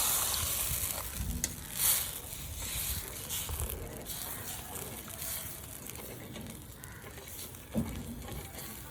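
Onion and tomato sizzle and crackle steadily in a hot pan for sardine curry, with occasional scraping and stirring clatters over the constant frying hiss.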